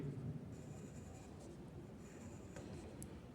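Pen or pencil writing block letters by hand on paper, a faint, continuous scratchy stroking with short pauses between letters.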